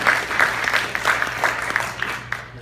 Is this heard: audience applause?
yes